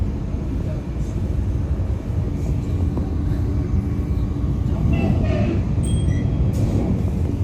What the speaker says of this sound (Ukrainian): Це поїзд тільки що приїхав.